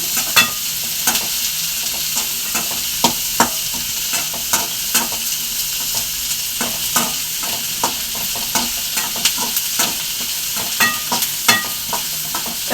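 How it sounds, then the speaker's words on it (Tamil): Onions sautéing in a pan, a steady sizzle broken by frequent clicks and scrapes of stirring, close and continuous with no voices. "வெங்காயம் வந்து ரொம்ப வதங்கணும்னு தேவையில்லை ஓரளவுக்கு லைட்டாக ப்ரௌன் கூட வந்தால் போதும்"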